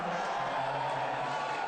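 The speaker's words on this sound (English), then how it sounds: "That is some violent booing too." A large crowd boos in a steady, unbroken roar of many voices, sustained and somewhat distant, with no single voice standing out.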